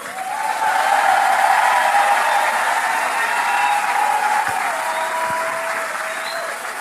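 A church congregation applauding, dense sustained clapping that fills the room at close range, with a faint voice or tone holding steady underneath and a gentle fade toward the end.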